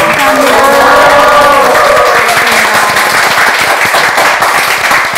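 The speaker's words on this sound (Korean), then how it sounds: "큰 박수로 감사 인사 드려보겠습니다" Audience applause at a healing talk show: a dense, sustained wash of clapping that stays loud and steady throughout, with some faint tonal sound near the start.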